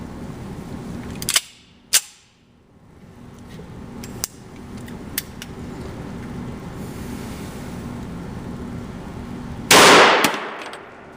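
Gunshots from hand-reloaded ammunition, the first reloads fired: two sharp reports close together near the start and a louder, longer blast near the end, with a few faint clicks between over steady outdoor background noise.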